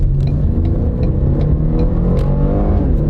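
A turbocharged Ford car revs and accelerates nearby, a loud, steady engine roar that rises slightly in pitch over a few seconds.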